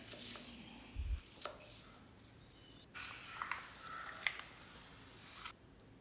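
A knife chops elephant foot yam into pieces for aviyal with a few sparse, faint taps against a board, spread out amid quiet background.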